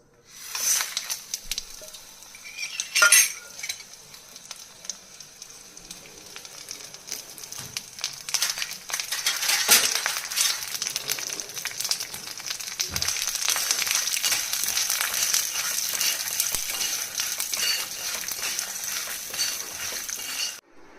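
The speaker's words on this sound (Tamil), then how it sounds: "இதை போட்டு வறுத்துடுவோம்" Fenugreek seeds and dried red chillies roast dry in a pan, giving a soft continuous rustle and scraping as they are stirred, with a couple of louder clinks of a utensil.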